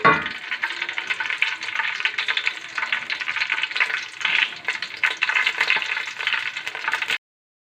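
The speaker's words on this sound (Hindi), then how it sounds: "इसको थोड़ा सा हम घी के अंदर तड़का लेंगे।" Loud, close crackling sizzle of cumin seeds frying in hot ghee, steady and continuous for several seconds with no voices.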